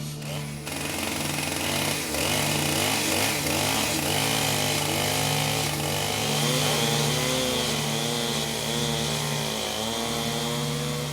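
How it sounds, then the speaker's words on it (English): A chainsaw cuts wood on rainforest land with a loud, continuous engine drone whose pitch wavers and bends as the blade works, running without a break for about eleven seconds. "when you're working with chainsaws in the middle of nowhere"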